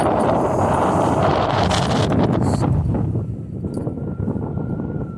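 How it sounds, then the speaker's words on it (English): Heavy wind roars and buffets directly against the microphone, a loud rumbling blast that eases slightly toward the end. "It's hella windy out here."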